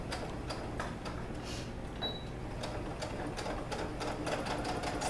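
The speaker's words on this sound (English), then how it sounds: "Go ahead and put my fabric through, just like last time, and start with our straight stitch." A sewing machine runs a straight stitch through fabric for a dress, a steady fast mechanical whir with ticking needle strokes throughout, close and continuous with no talk.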